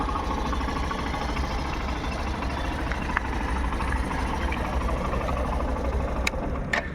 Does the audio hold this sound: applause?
no